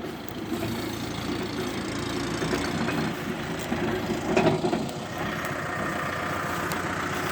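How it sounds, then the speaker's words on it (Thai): A farm tractor pulling a truck loaded with eucalyptus logs out of deep mud: a steady, mid-loud diesel engine drone runs throughout, swelling briefly midway, with no talk. "นี่รถไถมาดึงขึ้น"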